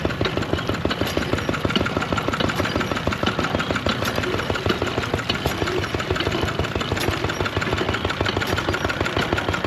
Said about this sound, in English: Good old engine.